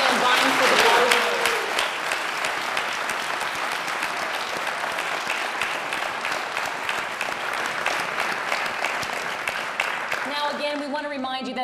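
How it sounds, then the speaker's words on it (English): A forum audience applauds the five candidates vying for the board, sustained thick clapping running steadily for several seconds before tapering off as a voice begins speaking at the end. "Let's give a final round of applause to these 5 men vying for the board."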